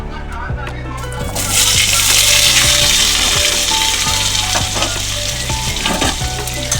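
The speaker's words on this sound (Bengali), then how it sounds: "ভালো করে ভেজে নিচ্ছি আলুটা" Potatoes fry in hot oil in a pan for a Bengali fish curry, a loud continuous sizzle close by with repeated scraping stirs of a utensil against the pan throughout.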